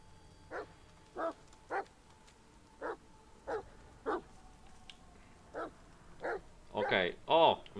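A dog in The Medium barks in short, evenly spaced single yaps, about a dozen over several seconds, ending in a louder, rougher cluster of barks, with quiet ambience between.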